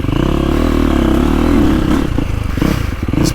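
A dirt bike engine revs hard on a GP woods loop. It is loud and close, with a sustained throttle roar that drops and then surges again, and rattling clatter comes through toward the end.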